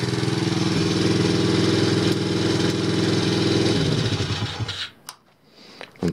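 Warmed-up ATV 110 engine running steadily with a low, throbbing idle close by, then the revs dip and the engine cuts out near the end, leaving brief quiet and faint clatter.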